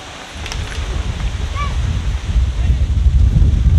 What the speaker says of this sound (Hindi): हवा बहुत तेज है। हवा बहुत तेज है ना? बहुत तेज हवा है।